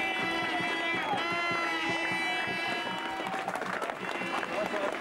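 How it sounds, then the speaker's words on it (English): A crowd cheers and roars at the finish of a men's skeleton World Cup race in Sigulda, Latvia. The noise is sustained, with loud voices and some scattered clapping throughout. "Listen to the crowd"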